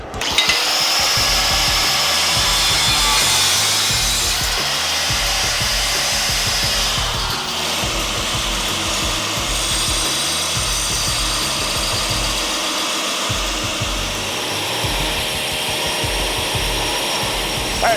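Forged chef knife blanks for a matching 8-inch and 6-inch kitchen pair being trimmed down on a power tool, a loud steady grinding whine that runs unbroken throughout with no voices.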